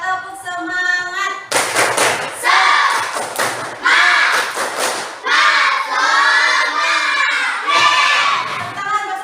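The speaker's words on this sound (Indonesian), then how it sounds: "kita tepuk semangat dulu. 1, 2, 3, tepuk semangat" A classroom of children performs a loud, close rhythmic spirit-clap chant in Indonesian, with repeated bursts of shouted syllables and sharp claps in a steady pattern, briefly separated by pauses.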